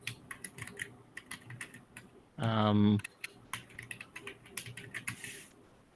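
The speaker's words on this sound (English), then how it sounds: "someone is typing." Rapid clicking of computer keyboard keys, irregular and fairly close, broken by a brief spoken filler sound from a person partway through.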